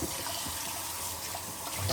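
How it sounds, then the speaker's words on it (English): Steady rushing of hot water from a tap filling a pan, a continuous broadband hiss pouring without pause, fairly close, with no talking. "I'm just going to fill this full of hot water."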